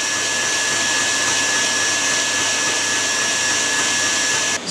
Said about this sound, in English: I'm going to add it into my egg yolks that have been whisking away for the last few minutes.